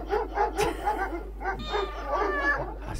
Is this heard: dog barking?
yes